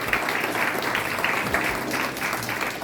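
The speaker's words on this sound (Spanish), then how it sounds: "Denle un aplauso al que vive" Congregation in a church applauding steadily, a dense continuous patter of many hands clapping at moderate loudness throughout, with no voices rising above it.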